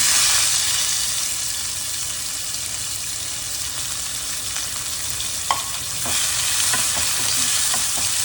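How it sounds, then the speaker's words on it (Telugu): Chopped onion frying with cashews in a hot tempering, a loud continuous sizzle with stirring scrapes and a few sharp utensil clicks toward the end, with no voices. "ఇప్పుడు మనం కట్ చేసి పెట్టుకున్న ఆనియన్ వేస్తున్నాను."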